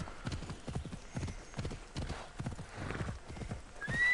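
Horse hooves clip-clopping in the video game Assassin's Creed Odyssey, a steady run of close, distinct hoof beats with a brief whinny-like tone near the end.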